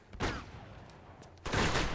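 Gunfire in the video game Uncharted 2: Among Thieves: two sharp, close bursts of shots separated by a short quiet gap, with no one speaking.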